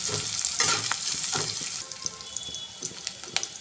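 Capsicum hits a hot frying pan for egg kosha and sizzles and crackles loudly at first, then settles into a quieter hiss with scattered pops and stirring clinks, with no talking.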